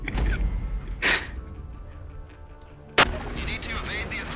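Gunfire in the video game GTA V during a prison escape, two sharp loud shots about two seconds apart over a dull background rumble.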